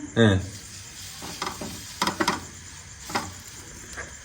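Food fries in a pan on a gas stove with the flame turned up: one sharp hissing burst at the start, then softer intermittent sizzles and stirring scrapes.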